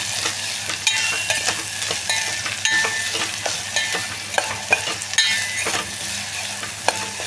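Chopped onion frying in ghee in a pan for masala dal khichdi, a steady close sizzle broken by occasional stirring scrapes and taps, with no voices.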